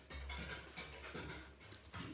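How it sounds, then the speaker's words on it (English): A dog pants quickly and steadily close by, with rapid soft breaths that stay faint and continuous and carry no other sound. "Excuse my dog."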